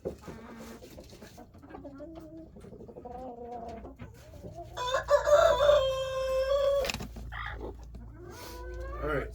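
Chickens in a coop during a storm give low clucks and calls, with a louder, drawn-out squawk in the middle, heard up close alongside a person's voice.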